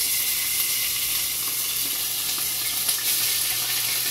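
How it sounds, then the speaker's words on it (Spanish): Meat browning in a hot pan on a home stove, giving a steady, close sizzle with a faint hiss that holds evenly throughout, with no talking over it. "a dorar la carnita aquí."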